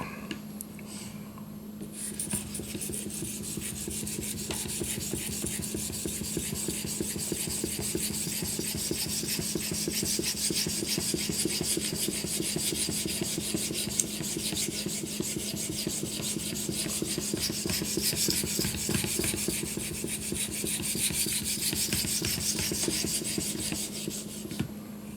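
A knife is sharpened on an Edge Pro Apex slide-guide kit with a bench mount, the stone rasping along the blade in a continuous, close, even scraping that carries on for the whole stretch without talk.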